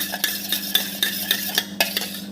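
A utensil stirs food in a pan, scraping and clinking against the metal in a steady rhythm of sharp, close taps, with no voices.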